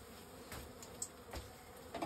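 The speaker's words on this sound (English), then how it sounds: "Ooh, there's a bee." A honey bee flies close by near a hive, its faint buzz drifting in and out over low outdoor background noise, with a few soft swells as it passes.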